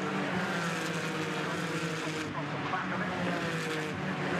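Porsche race cars in a sprint challenge at Brands Hatch GP circuit roar past as the leaders come by, a loud continuous engine drone with a brief dip mid-way, under commentary.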